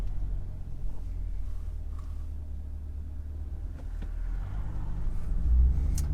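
A mid-engine Chevrolet C8 Corvette Stingray Z51 pulls away from a gas station with a steady, low engine rumble heard from inside the car that swells slightly toward the end.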